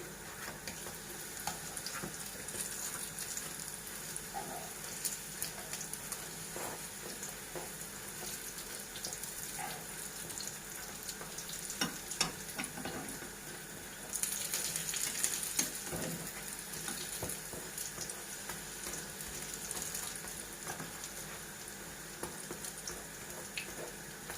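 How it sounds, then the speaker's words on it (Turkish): A quiet, steady sizzle of triangle pastries frying in oil continues throughout, with occasional clinks and a brief louder burst midway; no speech. "Şimdi ters çevirip gördüğünüz gibi öbür tarafını da kızartacağız."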